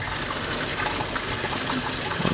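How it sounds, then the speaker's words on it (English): Water gushes and splashes steadily through a koi pond filter setup built in a swimming pool, a continuous close rushing flow with no pauses. "can you get water flowing?"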